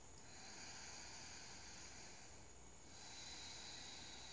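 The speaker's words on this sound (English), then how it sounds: "I'm using an audible breath, often referred to as an ujjayi breath." Slow ujjayi yoga breath hisses softly and continuously, a faint, steady airy rush that swells slightly partway through, with no talking.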